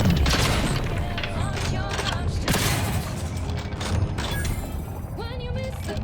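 Gunfire from a shotgun revolver in The Outer Worlds 2 game, a few sharp blasts and mechanical clacks over steady background game audio, with a voice talking at times.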